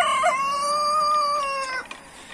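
A rooster crows once in a farmyard garden kept with pigeons and many other roosters, a long clear cock-a-doodle-doo close by and loud, with no talking.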